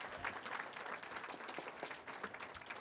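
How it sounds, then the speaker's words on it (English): A large crowd at a regional self-government treaty consultation meeting claps in a soft, steady patter of applause, heard from a distance and fairly faint. "give yourselves a big round of applause for that"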